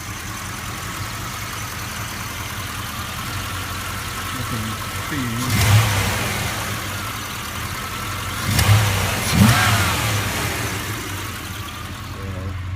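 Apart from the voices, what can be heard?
1978 Volvo 262C Bertone engine running and revving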